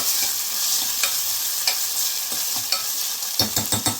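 Mutton fat sizzles in a pan with onions for a gongura mutton curry while a spoon stirs it, bringing a soft continuous fry under a run of clattering scrapes that bunch together toward the end, no voices.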